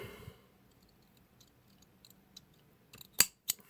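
Small scissors snip through a cotton wick on a Sigelei Moonshot atomizer, two crisp, close cuts near the end after a quiet stretch of faint fiddling and light ticks.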